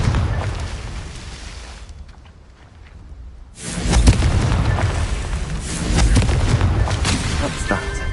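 A Confringo blasting spell goes off in Hogwarts Legacy, a loud booming burst after a brief lull, followed by a sustained rumbling roar and crackle that stays strong for several seconds.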